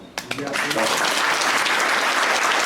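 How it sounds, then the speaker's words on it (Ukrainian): A concert audience at a Ukrainian Bessarabian folk ensemble's performance bursts into loud, sustained applause. Dense clapping swells from a few claps into a steady roar while a voice talks over it. "Море емоцій, шквал аплодисментів"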